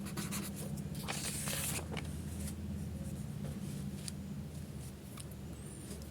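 Pen or pencil writing on paper during a maths lesson, a steady scratchy stroke that swells briefly then continues softly over a low constant hum, with no voice over it.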